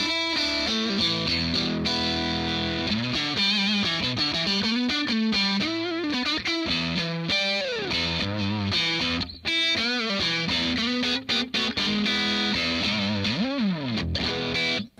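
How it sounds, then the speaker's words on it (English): Heavy distorted electric guitar through a distortion pedal, a Paul Gilbert PGMFRM1, plays continuously, thick crunchy chords and bending riffs, loud and close with a steady driving feel. "if I crank it up a little bit and put a distortion pedal on, it's nice and heavy still"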